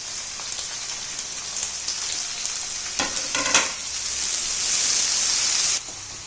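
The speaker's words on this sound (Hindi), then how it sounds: "अब हमारी प्याज अच्छे से फ्राई हो चुकी है" Chopped green chilies and onions fry in oil for poha, producing a loud, continuous crackling sizzle up close, with a brief burst of stirring scrapes midway.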